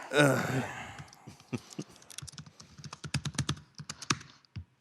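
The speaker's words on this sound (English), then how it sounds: "You're typing very authoritatively, though," Rapid keyboard typing with irregular clustered clicks, close and fairly crisp, after a brief burst of voice at the start.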